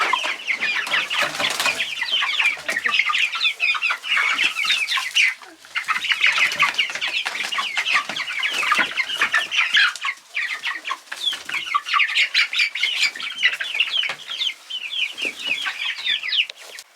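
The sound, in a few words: chickens clucking in run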